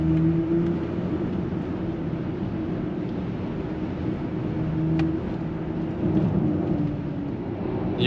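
A steady, loud low-pitched drone of a 2023 BMW iX 50 electric car accelerating, with a smooth electric hum and road and wind noise running throughout.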